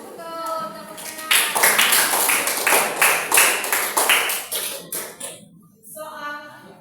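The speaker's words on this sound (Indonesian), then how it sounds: "Betul, tepuk tangan." Classroom children clapping together after a quiz answer, a burst of dense claps that swells loud and then tapers off, with a young voice briefly heard near the end.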